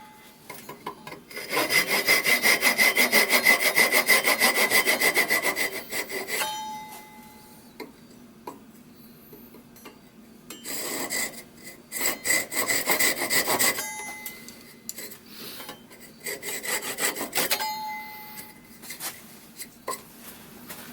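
A hand saw cuts a notch into a wooden whistle blank: a loud, close run of rapid rasping strokes for several seconds, then silence, then shorter, uneven bursts of sawing and scraping.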